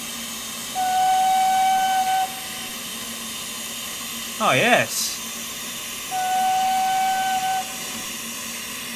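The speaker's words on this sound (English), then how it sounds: "Let's have a listen to the whistle." A Peckett steam locomotive whistle in Train Simulator 2021 sounds twice, each a sustained steady tone over a hissing background, with a brief spoken exclamation between the blasts.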